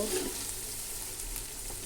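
Chicken meat sizzles and fries in a pot for biryani, a continuous crackling hiss with faint stirring, close and moderately loud, no voices.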